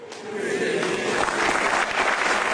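A comedy show audience claps and cheers in a dense, steady wave that swells slightly and holds, with a voice faintly mixed in.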